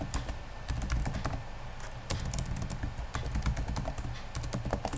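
Rapid, close keystrokes on a computer keyboard with an irregular clicking rhythm, heard alone and steady throughout while input is typed during a debugging session in IDA.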